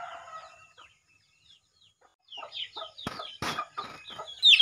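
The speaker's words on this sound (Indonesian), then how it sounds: "Kita kasih makan ayam." Village chickens, including a hen with chicks, cluck and squawk while being fed, with sparse soft clucks at first and then a louder flurry of sharp calls and a rooster-like cry near the end.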